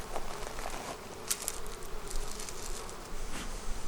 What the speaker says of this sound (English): Oh, I just had a bee pound me in the head. Come on, bees.